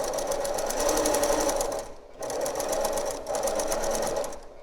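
A sewing machine stitches binding on a quilted coaster at a regular stitch length, a fast, loud mechanical whir in three bursts with brief pauses between.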